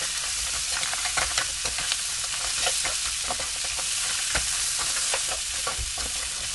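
Blue crab stir-fried with curry powder in a hot pan, steady sizzling overlaid with frequent sharp clacks and scrapes of a spatula, close and continuous without any voices.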